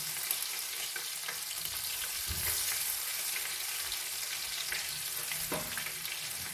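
Garlic ginger paste sizzles in a pan over low heat, a soft steady crackling hiss with a few stirring knocks, quiet and close, with no talk.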